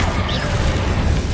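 Spell explosion from the Confringo curse in Hogwarts Legacy, a short dense rumbling blast that fills the moment with low booming noise.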